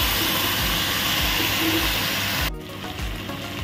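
Chicken feet sautéing in a pan with ginger, onion and garlic, a steady loud sizzle and hiss that drops to a quieter crackle partway through.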